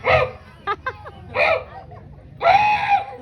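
A human voice imitates dogs barking: a few loud, yelping bursts separated by short pauses, ending in one long, drawn-out bark.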